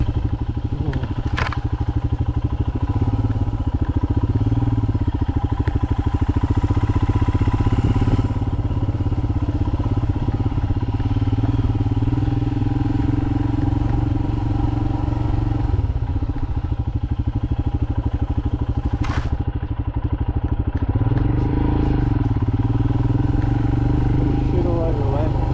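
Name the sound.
adventure motorcycle riding slowly on soft trail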